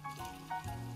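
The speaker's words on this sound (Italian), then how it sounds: "il nostro soffritto sfrigola" Italian soffritto frying in a pan, a quiet steady sizzle and crackle with faint stirring, heard on its own without talk.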